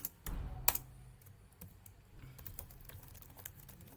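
Someone writing Terraform code types on a computer keyboard, with quiet, irregular key clicks and taps sounding close and alone for several seconds.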